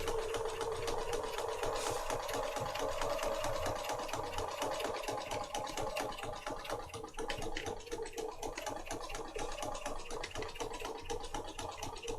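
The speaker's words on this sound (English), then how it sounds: "And then down this edge where I'm sewing my pocket on" A sewing machine stitches a pocket onto a handmade paper junk journal, a steady, close mechanical hum with rapid needle chatter running continuously throughout.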